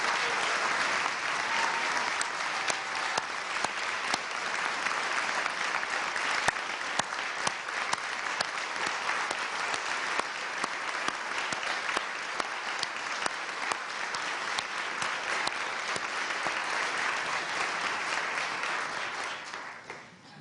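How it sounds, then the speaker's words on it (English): Audience at a governor's State of the Commonwealth address applauds steadily and loudly for about twenty seconds, a dense sustained roar of clapping that holds level before tapering off at the end. "Please give them a round of applause."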